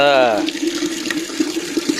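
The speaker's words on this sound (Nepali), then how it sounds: "आज चाहिँ अलि धारा ठुलो आएछ" A tap runs hard, a steady splashing gush of water that starts after a brief voice and continues loud and close.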